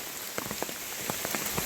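Rain patters steadily on an umbrella during a mountain hike, a dense continuous hiss of drops with scattered sharper taps close overhead, no voices.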